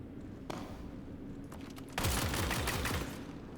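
Pulverizer LMG fire in Star Citizen: a brief shot, then a sustained automatic burst of about a second, heard fairly faint over a low ambient hum.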